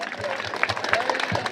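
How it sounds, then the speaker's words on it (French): An audience claps at a ceremony for a student association, a short burst of scattered, uneven hand claps heard under and alongside a speaking voice. "Vos applaudissements."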